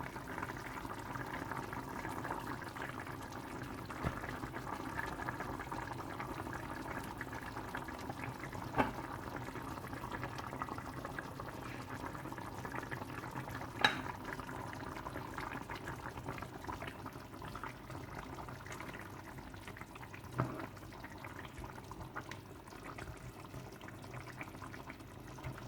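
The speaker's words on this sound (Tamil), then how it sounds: "இதை கொஞ்சம் ஒரு 3 நிமிஷம் கொதிக்க விடுவோம்." A pot of fish curry simmers steadily, a soft continuous bubbling with a few faint pops, quiet and close.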